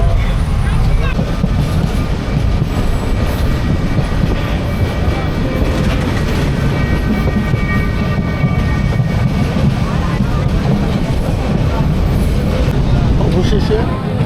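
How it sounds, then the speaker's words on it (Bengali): The Saikat Express passenger train, running from Chittagong to Cox's Bazar, pulls into Ramu Cantonment station. A loud, close, continuous rumble carries rhythmic clickety-clack of wheels on rails, with indistinct voices underneath. "ট্রেনটি মাত্র রামু ক্যান্টনমেন্টে পৌঁছালো।"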